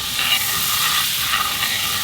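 Filet mignon dropped into a smoking-hot pan with a lot of butter, searing and browning in a steady, loud, close sizzle with hissing and spattering that carries on without any talk.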